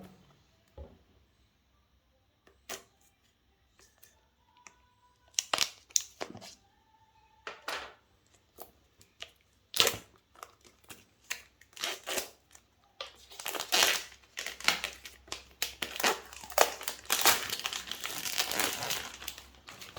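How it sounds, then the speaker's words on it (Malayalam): Crinkling and rustling while a Xiaomi 11i HyperCharge phone box is unpacked: sparse, sharp handling noises at first, then denser, louder plastic and paper crinkling toward the end, with no talking. "നമുക്ക് ഫസ്റ്റ് നമുക്ക് അൺബോക്സ് ചെയ്യാം"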